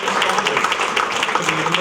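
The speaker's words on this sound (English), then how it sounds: "how about a big round of applause for our police department" A crowd at an award dinner claps and applauds steadily, a dense patter of many hands at moderate loudness, with some voices mixed in.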